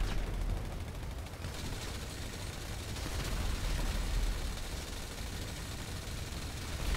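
Explosive-round gunfire from a weapon in GTA V's Cayo Perico fight crackles in a dense, continuous barrage of rapid blasts, moderately faint and without speech.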